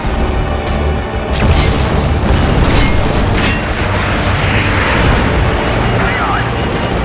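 Heavy explosions from friendly fighter fire in Call of Duty Modern Warfare 2 boom loudly and densely, rumbling on and off in a dense war-game mix, with radio voices talking over the blasts.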